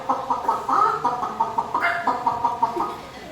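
A man in a classroom imitates a chicken with his voice, giving a string of short rhythmic clucks followed by a louder squawk. The clucking continues in quick bursts, close and fairly loud.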